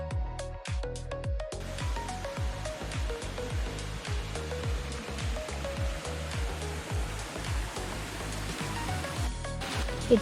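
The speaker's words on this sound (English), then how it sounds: "It seems that the water flow coming down from Ansan is abundant." Steady rushing and splashing of stream water flowing in Hongjecheon, Seoul, continuous and fairly close, with no voices over it.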